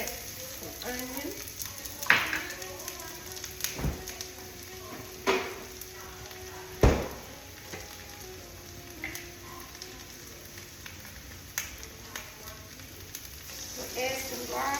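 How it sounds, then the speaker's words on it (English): Onion sizzles in a pan on the center burner of a kitchen stove, a steady crackling fry broken by a few sharp clanks of a utensil against the pan. "on the center burner, we're going to add some onion"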